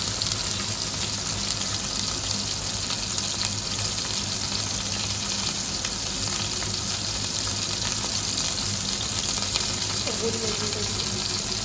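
Meat for chilli fries steadily in a pan, a continuous close, even sizzle with a faint watery hiss and no talking.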